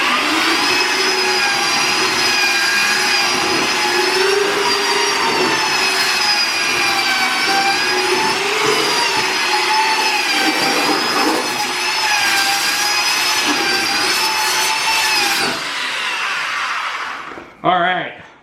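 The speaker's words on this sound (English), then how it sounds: "you just say screw it, and you grab a belt sander" A belt sander grinds into car paint on a scratched panel, giving a loud, steady whine with shifting tonal pitch that runs for about fifteen seconds before spinning down and cutting off.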